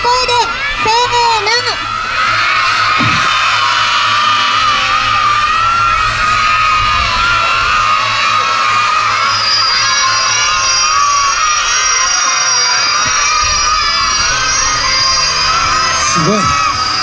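Crowd of young children shouting and cheering loudly together at a live superhero stage show, a sustained, dense roar of high voices lasting throughout with occasional bangs.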